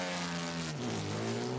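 A classic Jaguar race car engine at Le Mans Classic hums as a steady, faint harmonic drone that dips lower in pitch partway through and keeps running, with no voices.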